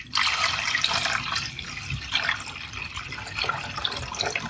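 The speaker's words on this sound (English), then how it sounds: "After that, I'm gonna move konjac into a small pot and add water." Water runs from a tap into a small pot holding konjac in a home kitchen, a steady close splashing and filling sound with a brief shift partway through, no talking.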